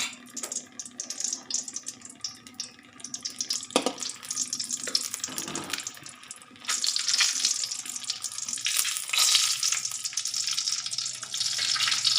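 Chopped tomatoes and leftover coconut fry in oil in a pan for a spinach gravy, giving a steady broadband sizzle that thickens and grows louder about halfway through, with no voices.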